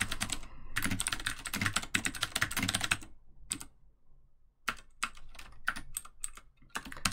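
Fingers tapping on a computer keyboard in bursts of rapid keystrokes, close and clear, with short pauses between runs and no talking.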